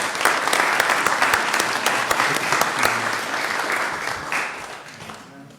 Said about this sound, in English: Let's give these two fine young gentlemen a round of applause.